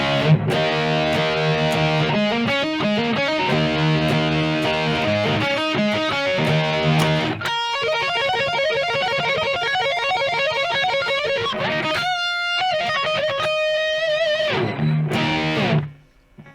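Electric guitar played through a BOSS eBand set to a vintage modified Marshall high-gain stack, gain at 110: loud, continuous distorted chords and riffs that break into fast single-note runs, ending abruptly near the end.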